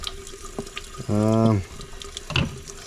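A kitchen sink tap briefly runs water while a Karcher Chariot 2 filter is washed with dish soap. A short, close gush carries a tonal whine against quiet room background, with faint sounds after it.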